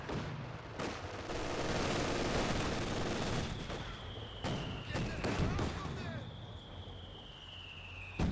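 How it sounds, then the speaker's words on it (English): Rapid machine-gun fire from a quad half-track rakes through a Company of Heroes 2 battle, dense bursts layered with other gunfire and explosions, with a talking voice running over the din. "quad half track hitting them"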